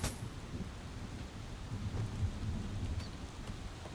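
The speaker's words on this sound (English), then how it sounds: "It's kind of cool casting lightning in a thunder and lightning storm." Thunderstorm in the game Legends of Aria: steady heavy rain with low rolling thunder rumbling throughout, fairly loud and continuous with no talking.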